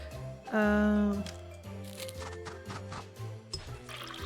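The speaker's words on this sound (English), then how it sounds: "fill the bottle with a bit of yellow" Yellow liquid poured into a potion bottle in the game Moses & Plato, a brief gurgling splash followed by softer trickling and clinking sounds with a faint voice underneath.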